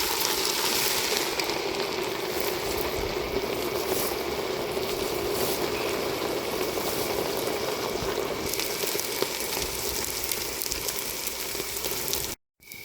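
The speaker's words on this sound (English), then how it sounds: "Now I just want to put the omena and fry." Fresh omena fish frying in hot oil, a steady, loud broadband sizzle and bubbling crackle that holds evenly throughout before cutting off abruptly at the very end.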